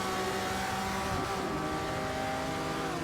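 A Ferrari 250 Testa Rossa engine in a racing video game, droning loudly and continuously under light throttle as the car accelerates through a turn, its harmonic tone shifting steadily.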